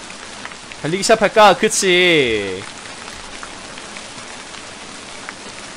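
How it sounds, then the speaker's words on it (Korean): Steady rain pattering on a surface, a soft continuous hiss that runs under a brief exchange of voices near the start and then carries on alone. "비가 오네."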